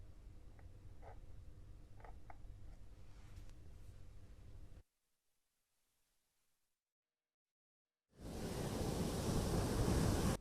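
Rough surf from the Bay of Bengal churns as Cyclone Fengal nears the coast, loud broadband wave roar with wind, broken by a few seconds of silence before the crashing surge returns even louder.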